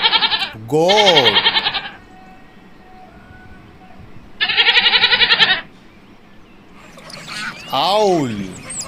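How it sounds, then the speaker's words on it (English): A goat bleats in short, wavering cries, three separate bursts spaced a few seconds apart, close and clear over a faint background. "Goat."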